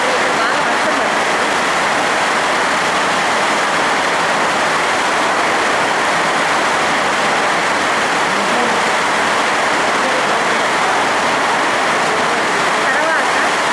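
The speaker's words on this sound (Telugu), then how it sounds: "ఇక్కడ బాగా వర్షం పడుతుంది" Heavy rain pours down in a continuous broad rushing wash, loud and unbroken from start to finish, with a voice talking faintly beneath the roar.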